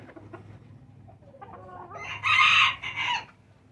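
A Phoenix breed rooster, the father of a young cockerel, crows at a poultry breeding farm, with a single loud, drawn-out call rising in the second half after quieter barnyard noise.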